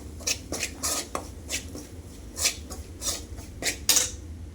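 Whole spices are being roasted in hot oil in a pan for chicken curry, giving a series of crisp clinks and sharp crackles at irregular intervals against a low sizzling bed.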